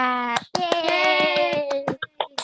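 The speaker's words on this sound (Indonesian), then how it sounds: "Kita kasih tepuk tangan dulu ke Indira." A group claps hands in a quick burst of sharp strikes, layered over a sustained voiced cheer that fades before a few final claps.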